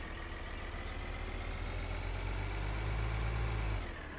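Tractor engine in Farming Simulator 2013 idles steadily with a low rumble, its revs rising toward the end before dropping off abruptly.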